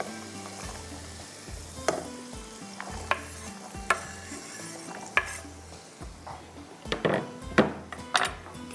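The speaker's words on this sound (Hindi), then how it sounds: "तो सबसे पहले मैं इसके अंदर गाजर ही डालूँगी। चलेंगे, गाजर चली जाएगी इसके अंदर।" Carrots sizzle in a frying pan on a home stove while a utensil scrapes and clinks against the metal in repeated stirring strokes, close and busy.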